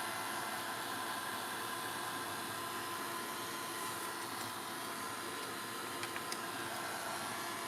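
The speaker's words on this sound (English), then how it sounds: "I'm going to get my heat tool and we're going to really sort of dry this out." Craft heat tool blowing hot air to dry an art journal page, a steady faint whooshing hiss like a small hair dryer running continuously, with a few light ticks near the end.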